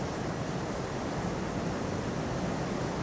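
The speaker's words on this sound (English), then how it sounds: "Is that rain? Yeah, it's pouring hard out of nowhere." Heavy rain pours down outside a cabin as a dense, constant hiss that fills the whole moment without letting up, with no voices.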